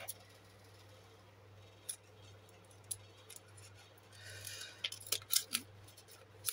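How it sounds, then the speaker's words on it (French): Scissors snip through paper for a collage in quiet, close cuts, a few isolated snips followed by a quicker run of crisp cuts toward the end over a low background hum. "Encore une fois, je coupe au pif, d'accord?"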